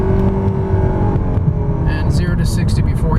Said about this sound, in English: Show you how quickly you can accelerate in this vehicle.